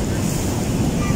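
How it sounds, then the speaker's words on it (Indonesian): Ocean waves and wind at Sadranan beach make a brief, steady roar of surf with heavy wind buffeting the microphone, loud and continuous. "Lagi main di pantai Sandriana ini"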